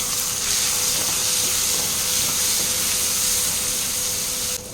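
Whole spices, cinnamon, cloves, fennel and poppy seeds, sizzling in hot fat in a pan for a white peas kurma. A steady, close frying hiss runs unbroken throughout, then drops off sharply at the end.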